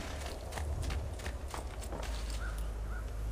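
Horse hooves clip-clop in Assassin's Creed 2, a steady run of muffled beats over a dense, noisy game background, with no one talking.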